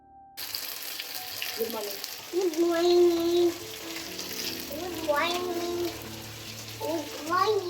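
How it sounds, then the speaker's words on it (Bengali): Taro pieces fry in hot oil in a wok seasoned with cumin, bay leaf and dried chillies, giving a steady close sizzle throughout while a voice and a child's sounds break in over it. "কড়াইতে জিরে তেজপাতা শুকনো লঙ্কা ফোড়নে দিয়ে কচুগুলো ভেজে নেব ভালো করে"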